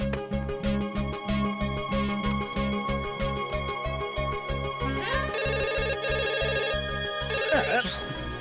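A telephone bell rings in steady, repeated bursts, loud and close, in a Hindi-dubbed film scene, ending in a brief sweeping electronic flourish.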